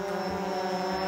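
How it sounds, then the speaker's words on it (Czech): A DJI Phantom 4 drone flying nearby, a steady high-pitched propeller whine with a constant tone, loud and close throughout the short moment. "Dron mě, i když jsem pořád v chůzi, jo, ten dron mě oblítne"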